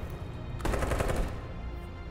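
A short burst of rapid automatic gunfire rings out in the video game Detroit: Become Human, a dense rattling volley over a steady background drone, loud and close for about half a second.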